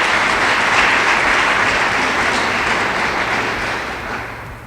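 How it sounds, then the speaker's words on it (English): A crowd at a city transportation infrastructure event applauds the engineers, a full, steady round of clapping that tapers off gradually near the end, with no talk over it. "Give these guys a round of applause."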